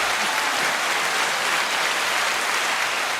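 A steady burst of applause, many hands clapping densely and evenly at a constant loud level throughout.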